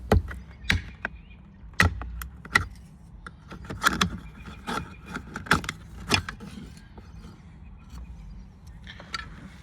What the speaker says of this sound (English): to remove this plastic cover, do the same thing, go in a corner and then pry it out.